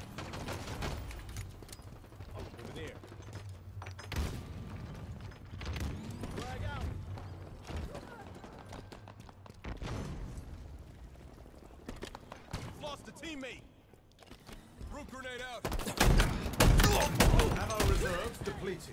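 Alien shotguns fire in Halo Infinite multiplayer, heard as several sharp blasts under a player's talk, with a dense, loud flurry of shots near the end.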